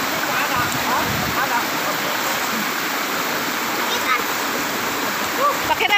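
Lagasan Falls waterfall in Damulog, Bukidnon, with children bathing, a constant broadband rush of falling water with small splashes, steady and close throughout.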